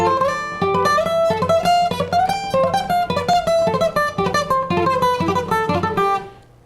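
A fast guitar lick played with a loose picking style, a rapid run of bright picked notes over ringing lower strings that fades out at the end, heard close and alone.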